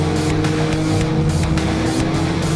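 A modified Mazda RX-7 with a 900-horsepower engine pulls away at the start of a record speed run, its loud engine droning steadily with rhythmic surges and shifts, close and continuous, with no voices.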